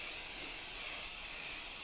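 Crafter's Companion stick-and-spray adhesive sprayed from an aerosol can while layering a sewing machine mat, a steady bright hiss lasting nearly two seconds, close and even, with no talking.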